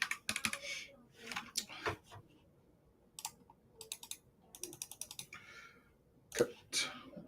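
Quiet computer keyboard typing, bursts of clicky keystrokes with short pauses in between, heard close and alone.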